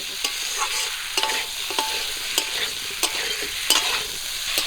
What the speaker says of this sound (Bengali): ভাজাগুলো দেওয়ার পর আবারও কিছুক্ষণ কচুগুলোকে ভাজা করে